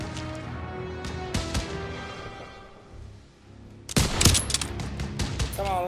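Gunfire in Call of Duty: WWII: a few scattered sharp shots, a brief lull, then a dense, loud burst of rapid firing and impacts close by.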